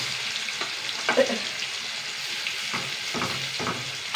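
Pieces of fish sizzle in hot oil for a curry, making a steady close frying hiss with a few soft knocks and scrapes against the pan.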